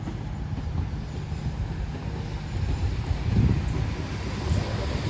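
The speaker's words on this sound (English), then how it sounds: "It's a rather busy train as well, as per usual." A CrossCountry train pulls into Totnes station with a low, continuous rumble of wheels and engine, some wind buffeting, and faint rail clatter building toward the end.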